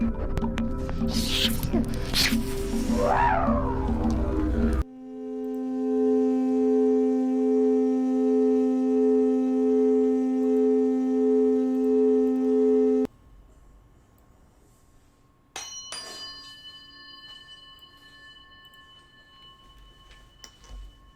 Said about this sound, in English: those are tuning forks